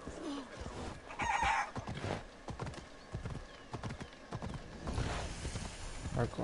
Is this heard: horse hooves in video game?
yes